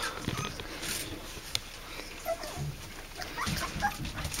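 A female dog whimpering and yipping softly in short, scattered bursts, close by, over faint background noise.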